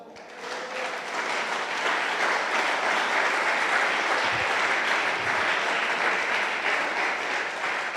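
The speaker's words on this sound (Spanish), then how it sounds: "¿Usted cree que Dios merece un aplauso?" A church congregation applauding, a broad, dense wave of clapping that swells in and holds steady for several seconds.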